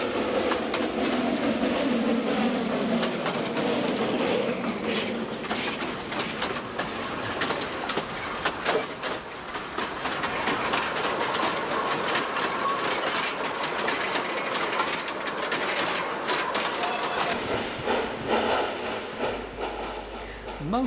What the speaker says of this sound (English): Class 764-080 tanks are the usual motive power on the 41 kilometres long route